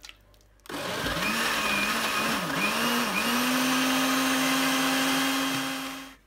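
An immersion blender purées carrot soup in a pot, running as a loud, close whir that steadies into a constant hum for several seconds before stopping, with no talk.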